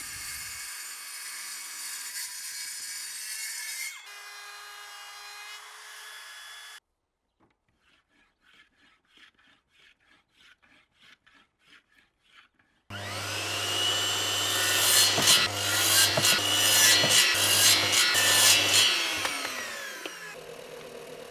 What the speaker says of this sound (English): I first cut the profile into one long piece of wood and then cut this into smaller pieces.